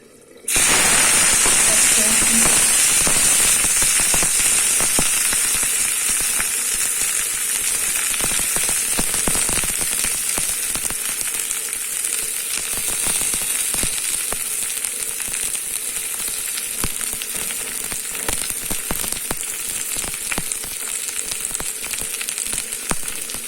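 Fish frying in hot oil for fish curry, a loud, steady sizzle and hiss that bursts up at once and keeps going with crackling spatter, close to the pan.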